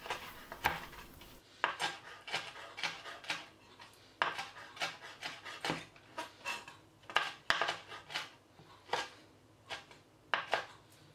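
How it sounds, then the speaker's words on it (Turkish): A knife chops softened mushrooms repeatedly on a cutting board, a steady series of crisp, irregular thuds and knocks up close, with no talking. "Yumuşadıktan sonra mantarımızı süzelim. Bunu da irice biraz doğrayalım."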